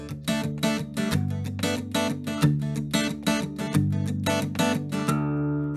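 A guitar in DADGAD tuning plays a reel with bright, rhythmic strumming, the first beat of each bar muted and the upstrokes accented, ringing steadily and close with no talking.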